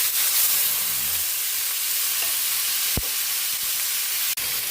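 Chicken pieces fry in a pan with ginger, garlic and onion, giving a loud, continuous close-up sizzle and hiss with a few light clinks from stirring.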